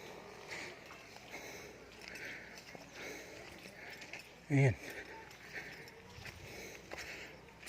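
A horse walks along with soft, faint hoof clip-clops in steady rhythm under background noise and scattered talk, with one loud close burst partway through.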